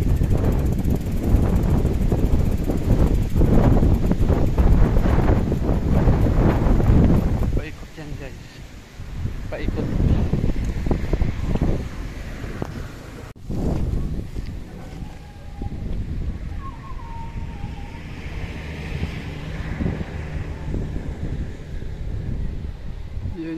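Strong wind buffets the microphone on a hilltop during a bike ride, a loud continuous rush that eases partway through, with a voice talking over it.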